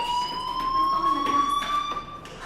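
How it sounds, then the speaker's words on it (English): A fire alarm rings in the video game Life is Strange, a loud steady electronic tone held without break throughout, with faint background noise beneath. "Hey, do you hear that fire alarm? That means you should be outside."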